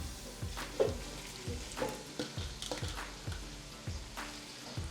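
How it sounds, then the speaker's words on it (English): Meat frying together with garlic in a pan at home, a soft continuous sizzle broken by repeated scraping stirs at a regular rhythm, close and fairly quiet. "I wanted the meat to cook for a while together with the garlic"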